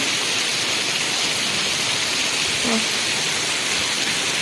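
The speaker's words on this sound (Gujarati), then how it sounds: "બે કલાક થયા વરસાદ ચાલુ જ છે હમણાં થોડોક વધુ છે" Heavy monsoon rain pours in a constant, dense hiss on farmland, with wind adding to the steady roar.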